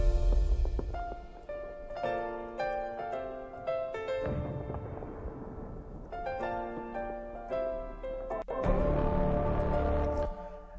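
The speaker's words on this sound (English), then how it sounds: "piano and then some background sound effects of some explosions" Game soundtrack built on a sparse solo piano melody, with low rumbling explosion effects in the background that swell and fade between the phrases. No one speaks.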